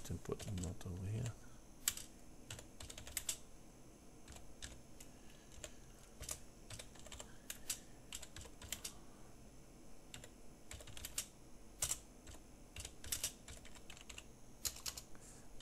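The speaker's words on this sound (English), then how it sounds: "and you can type whatever you want" Keys clatter on a computer keyboard in quick irregular bursts, quiet and close, with short pauses between runs of taps.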